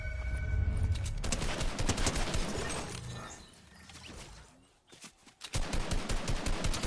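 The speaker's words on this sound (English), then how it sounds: "why am I using the minigun?" Minigun fire in Fortnite, a dense rapid stream of shots that runs loud for several seconds, drops away briefly, then resumes at full intensity.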